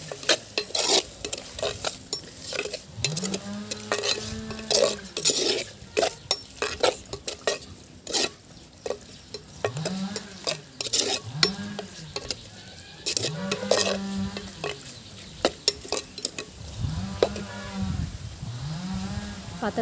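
Goat intestine cooks with rock salt in a pan, giving a steady sizzle broken by repeated scraping, clattering strokes of a spoon stirring against the metal, close and fairly loud.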